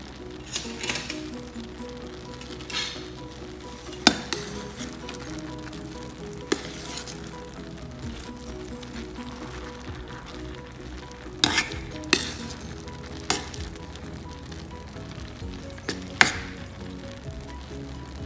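Moong dal masala khichdi simmers in a covered pan, giving a steady soft bubbling and sizzle with occasional faint clinks and taps.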